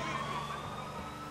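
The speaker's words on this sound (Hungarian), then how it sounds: "Viszont itt van egy rendőrautó," Police car siren in the video game GTA 4, a steady wailing tone over engine rumble, moderately loud, with a voice briefly underneath.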